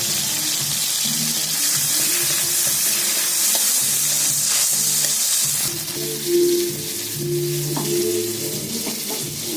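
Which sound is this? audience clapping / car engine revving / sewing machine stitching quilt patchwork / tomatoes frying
tomatoes frying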